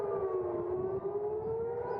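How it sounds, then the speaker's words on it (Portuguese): An air raid siren wails across Israel, a long steady tone that slowly rises in pitch, sounding alone with no voices over it. "As sirenes soaram diversas vezes neste sábado de manhã em Jerusalém, em Haifa, no norte de Israel, e em Tel Aviv também."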